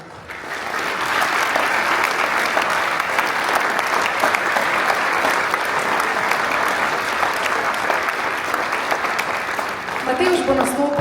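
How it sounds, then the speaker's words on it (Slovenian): A concert audience at a wind orchestra's Christmas and New Year concert applauds loudly and continuously, a dense sustained roar of clapping that thins slightly near the end as the hall settles. "zato en iskren in velik aplavz za vsestranskost."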